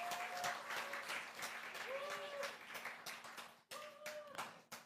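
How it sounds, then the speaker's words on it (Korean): A church congregation applauds during a Sunday afternoon service, quiet, continuous clapping from many hands heard at a distance, with voices and faint tonal sounds running underneath. "우리 믿음으로 고백한 우리 윤석이 큰 박수 다시 한번 부탁드리겠습니다"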